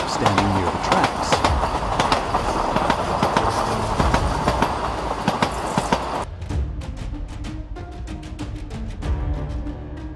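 A high-speed train races past at 300 km/h near a flock of sheep by the tracks, with a loud, dense rumble and rhythmic clickety-clack. The sound drops sharply partway through, and a voice may be present.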